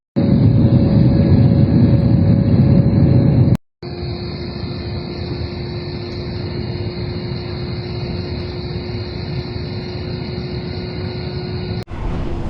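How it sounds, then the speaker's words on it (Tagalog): Inside the cabin of an airliner on final approach to Manila, a loud, steady engine roar and broadband rumble fill the space, with one brief dropout and a sharp click, no voices heard. "we're now on our final approach and we'll be landing in a few minutes"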